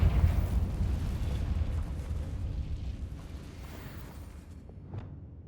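A Confringo fire spell explodes in Hogwarts Legacy with a loud, deep, rumbling blast that slowly decays into a fading roar, ending with a faint whoosh.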